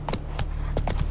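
Roach, a horse in the video game Witcher 3, gallops along in quick clip-clop hoofbeats, several close and fairly loud strikes over a steady low background hum.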